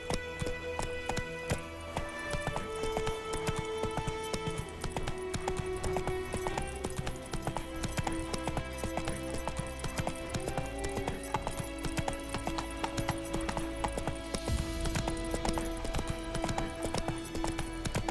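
Hooves of the horse Roach galloping in The Witcher 3: Wild Hunt, a rapid continuous clip-clop under layered game music and ambience, steady and prominent throughout.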